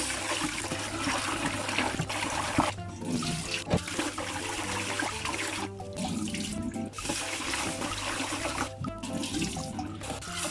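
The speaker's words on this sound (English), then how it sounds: "first I wash rice. Wash and change the water 3 times." Raw rice is washed in a bowl of water, with running tap water and steady sloshing and swishing close by. No one speaks.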